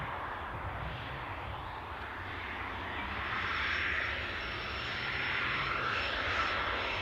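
A Loganair airliner's engines roar steadily at Newcastle airport, a loud broadband drone that swells gently midway and holds to the end with no voices.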